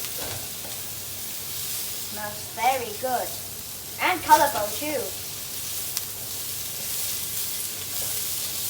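Singaporean fried rice noodles with colorful bell peppers sizzle in a frying pan, a steady low hiss running under someone talking throughout.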